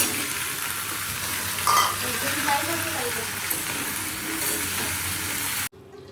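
Vegetables frying in a pan with garlic tempering for a mustard-style curry, a steady broadband sizzle with stirring that runs loudly and continuously before cutting off abruptly near the end.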